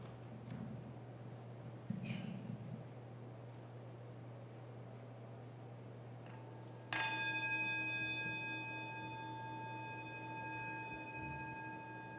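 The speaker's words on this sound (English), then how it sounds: "As we follow the sound of the bell into silence" A single bell is struck once during a Unitarian Universalist Sunday service, ringing out clearly with a long, slowly fading resonant tone over a quiet room hum, after a few soft rustles.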